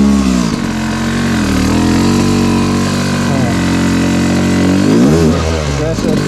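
An enduro dirt bike engine revs loudly and close during hard enduro riding, its pitch rising and falling in repeated blips as the throttle is worked, with the rider's voice partly heard over it.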